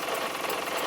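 An air-powered model DHR Type B locomotive running in forward gear, giving a rapid, steady mechanical chatter with a hiss of escaping air, close and moderately loud.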